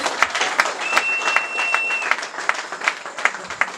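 Audience at a talk in the 5th arrondissement breaking into applause, sharp rhythmic claps ringing steadily across the room at moderate loudness.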